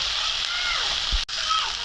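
Water is splashed into a pan of onion, ginger and garlic frying in oil for a tengra fish curry. A close slosh and sputter rises over the ongoing sizzle, with a brief sharp clack partway through.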